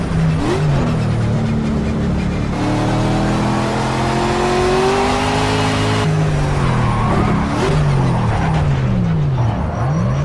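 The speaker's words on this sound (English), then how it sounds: "See if we could take this car around Mazda Raceway, Laguna Seca" A race car in Project Cars lapping Mazda Raceway Laguna Seca: a loud, continuous engine roar that climbs and falls as the car accelerates and shifts through gears, with brief tire squeal, close and unbroken.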